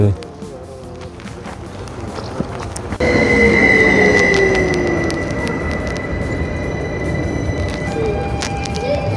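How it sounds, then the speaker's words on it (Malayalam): A train rolls through a railway station in Switzerland, its wheels squealing in long drawn tones over a steady rumble, loud and close, with people talking nearby. "ഇതാണ് സ്വിറ്റ്സർലൻഡിലെ ട്രെയിൻ."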